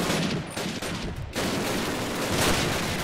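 Rapid gunfire rattles in Call of Duty as an enemy is shot, dense bursts of loud, close shots with a brief lull before the firing resumes and continues steadily.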